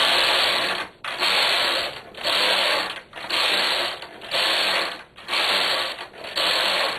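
A knitting machine carriage runs back and forth across rows of waste yarn, giving a loud, steady mechanical whirring and clacking in repeated passes about once a second, each pass cut by a short pause at the turn.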